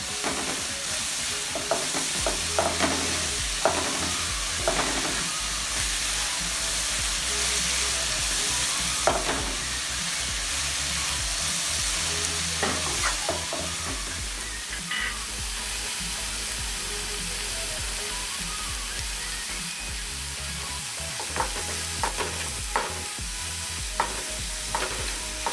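Crushed ginger, green chili and garlic fry and get stirred in a pan for chicken bucket, a steady loud sizzle broken by scraping and clinking spoon strokes throughout.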